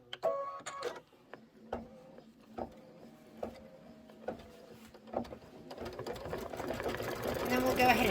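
An embroidery sewing machine stitches decorative quilting with a rapid, regular mechanical clatter that stays close, building to a denser, louder run at the end, with voices faintly present at times.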